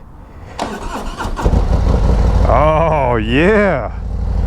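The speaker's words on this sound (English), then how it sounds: "This will be the first time I've been on a 2024 CVO with a 121." A 2024 Harley-Davidson CVO Road Glide with a 121 engine cranks with a stuttering starter, then fires into a loud, deep rumble with a rising and falling rev nearby, while a voice exclaims briefly over it.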